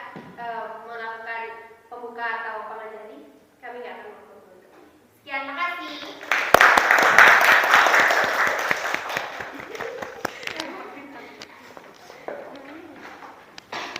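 A classroom audience claps for a student group after their presentation, a dense burst of applause that starts loudly after a few spoken phrases and gradually thins out.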